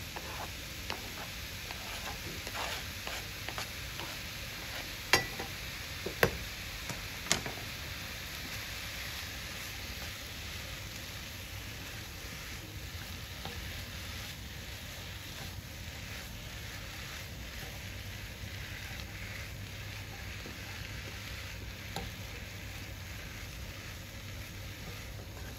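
Garlic and onion frying in a pan for chilli con carne during a Year 9 cooking demonstration give a steady, soft sizzle, with a few sharp clicks and taps of utensils scattered over it.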